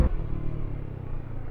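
A Bajaj Dominar 400 motorcycle fitted with a laser iridium spark plug runs with a low, smooth engine rumble just after the throttle is closed, fairly quiet and steady.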